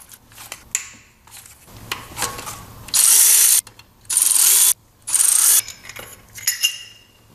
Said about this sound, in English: To remove this bracket for the accessory belt, you'll use a 10 millimeter, and then there are three bolts holding it in place.